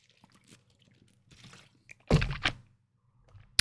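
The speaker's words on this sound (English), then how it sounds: "You hear that? Hear that gulp? That's water going down my throat." A single wet gulp of swallowed water stands out after quiet, faint mouth noises, followed by a brief click at the end.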